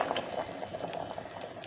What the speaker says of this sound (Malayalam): കടുവ് താളിക്കാൻ പോണേ കടുവ് പൊട്ടുന്നേ